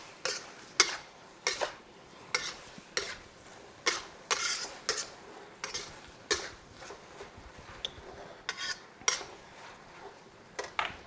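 Glass noodles and beef stirred in a hot pan, a utensil scraping and clacking against the pan in quick, regular strokes, close and clear with light sizzling beneath.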